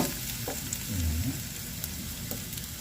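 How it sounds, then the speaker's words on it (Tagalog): Tomatoes sautéing in a pan for fish sinigang give a steady close sizzle, with a brief stirring scrape near the middle and no talking. "Gisa lang po natin ang ating sigang sa kamatis."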